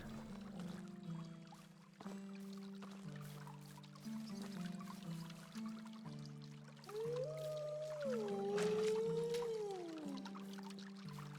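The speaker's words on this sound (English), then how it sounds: "Lots of wolves around here." Wolves howling in the video game Medieval Dynasty: a faint, wavering, gliding howl rises and falls in the second half over soft, steady sustained background tones, with no one talking.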